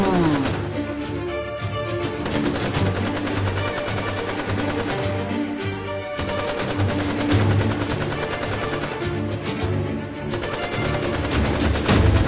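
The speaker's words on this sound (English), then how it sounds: "Let's just follow the sound of the gunshots." Gunfire in an animated cartoon: a long, loud, unbroken volley of rapid shots that keeps going for several seconds over a steady droning tone underneath.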